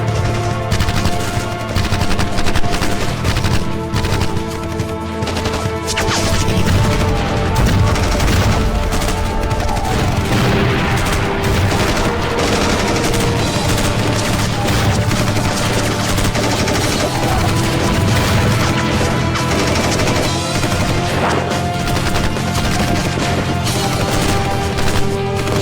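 Sustained rapid gunfire fills a battle scene in a dubbed action film, loud and dense throughout, with continuous bursts layered under a busy soundtrack.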